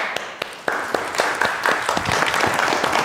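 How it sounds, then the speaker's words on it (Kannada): Audience applause for Chik Boss, a burst of clapping from a crowd that swells after a few scattered claps and keeps going steadily and fairly close, with no talking. "ಅದಕ್ಕೆ ಚಿಕ್ ಬಾಸ್ಗೆ ಒಂದು ಚಪ್ಪಾಳೆ"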